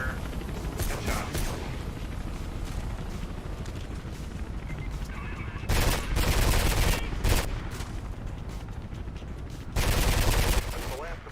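Gunfire in the video game Mirror's Edge, with dense bursts of rapid automatic shots, loud and close, in a few long volleys over a steady mechanical background, with a voice talking briefly.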